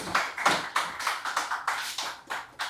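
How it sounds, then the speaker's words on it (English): Clapping from an audience at a data build tool meetup, heard as slow, evenly spaced claps in a steady rhythm, fairly close and moderately loud. "Let's clap for him, please."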